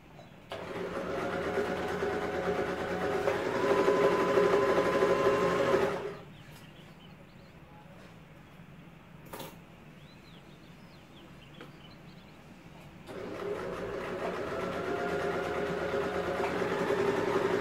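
A sewing machine stitches fabric for a homemade crop top in two long buzzing runs separated by a quiet pause with a faint click, the motor whirring steadily and close.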